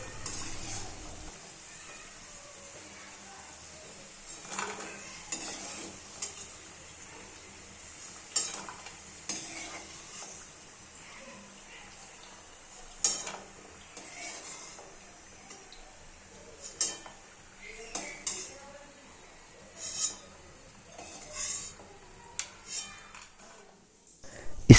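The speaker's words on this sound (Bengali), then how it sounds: "পরের আলুগুলোও বাদামি ভাজা হয়ে গিয়েছে।" Potatoes for homemade french fries fry in a pan of oil, a steady low sizzle broken by repeated clinks and scrapes of a utensil against the pan as the browned pieces are stirred and lifted out.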